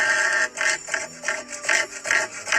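Cassowary calling in a series of short, rasping, grinding bursts, about seven pulses in quick succession, close and fairly loud with no speech over it.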